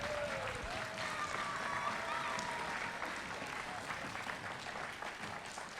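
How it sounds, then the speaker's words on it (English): A crowd at a primary school event claps in a sustained, even round of applause, fairly distant and dense, with faint voices and whoops mixed in. "So huge round of applause for all the children in the school."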